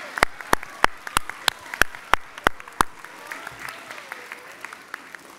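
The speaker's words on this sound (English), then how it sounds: "can we have a round of applause for the family members who came out" Hand clapping from parents and family at a lower school winter concert, fairly sparse and irregular, starting with several loud, distinct claps and thinning out into softer, scattered claps toward the end.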